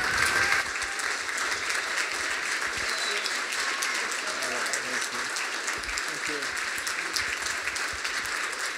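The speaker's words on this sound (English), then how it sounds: "Let's give them a big round of applause." Audience of HUD employees giving a big round of applause as Secretary Carson and Mrs. Carson walk onto the floor; dense, sustained clapping holds steady throughout, with voices audible beneath it.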